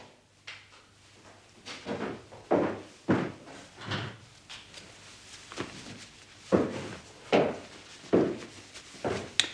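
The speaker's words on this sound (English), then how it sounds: "Lock the door." Door in a hospital laboratory being shut and locked, heard as a series of sharp knocks, clunks and handling thuds spread unevenly through the clip, moderately close with no talking.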